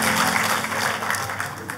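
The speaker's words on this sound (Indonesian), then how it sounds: "Tepuk tangannya buat Tuhan kita yang paling meriah." A church congregation applauds during a sermon, a dense, steady wash of clapping from many hands filling the room for a couple of seconds.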